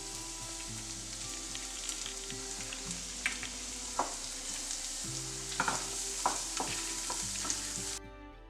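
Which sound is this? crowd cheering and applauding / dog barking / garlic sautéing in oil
garlic sautéing in oil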